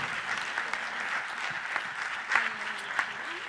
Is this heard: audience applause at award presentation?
yes